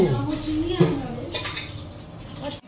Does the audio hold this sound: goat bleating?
no